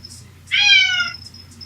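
A cat gives a single clear, drawn-out meow lasting about half a second, close and loud over a faint low hum, with quiet pauses before and after.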